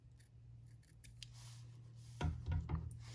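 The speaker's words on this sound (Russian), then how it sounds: "И ножницами вырезаю форму листика." Scissors snip through satin ribbon to cut a small leaf shape for a handmade rose, several close, crisp cuts clustered near the end after quiet faint rustling.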